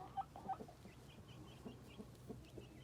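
Chickens cluck softly at sunset as the flock is put away for the night, a few brief calls standing out over faint outdoor ambience with no talk.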